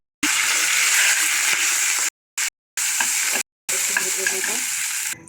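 Onions frying in hot oil in a pan, a loud steady sizzle heard up close, broken by a few abrupt silent gaps before it resumes.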